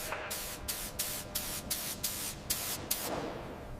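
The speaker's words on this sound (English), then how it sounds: "Spraying now." Short rhythmic bursts of a spray gun applying coating to a B-52 aircraft during corrosion work, about eight hissing pulses in steady succession, close and fairly loud, with no talk over them.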